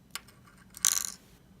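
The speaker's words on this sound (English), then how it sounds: "So I'm going to take the SD card out." Micro SD card pulled out of a card reader after flashing for a Raspberry Pi, a small click followed by a brief bright plastic scrape, close and quiet.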